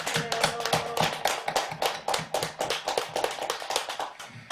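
A small gathering claps at a Buddhist temple dharma talk, the hand claps quick, uneven and fairly close, with no voices over them.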